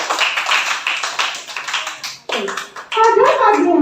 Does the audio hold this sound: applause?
yes